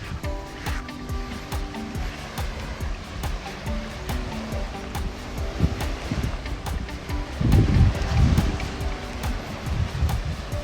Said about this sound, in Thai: ชายหาดสวย ๆที่เล่นน้ำทะเล บรรยากาศดีๆกันนะครับ